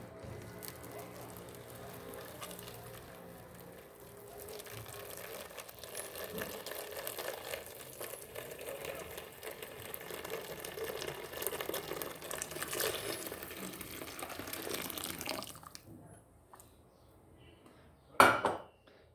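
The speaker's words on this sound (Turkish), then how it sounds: "Kaynar suyumuzu döküyoruz." Boiling water poured into a container with a dissolving cleaning tablet while cleaning a refrigerator, a steady hissing, bubbling pour that builds over fifteen seconds, stops abruptly and ends with a sharp clatter.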